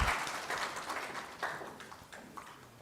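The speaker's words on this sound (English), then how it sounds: "Another round of applause for Professor Verkooyen" An audience applauds a professor at a talk on Norway, Kenya and multilateral peace and security: a dense, fairly faint patter of many hands that carries on alone for about three seconds.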